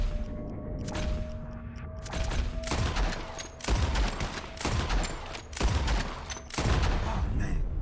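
Gunfire in the video game Red Dead Redemption 2, a rapid volley of loud close shots in quick succession, several sharp booming reports over game ambience with faint tones.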